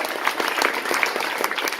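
Rally audience applause, a thick burst of many hands clapping at a steady volume, with scattered sharper individual claps standing out.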